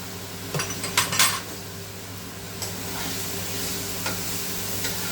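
Chicken curry being stir-fried in a pan with slit green chillies, a steady sizzle under a few sharp clinks and scrapes of a spoon against metal near the start, then softer scraping later.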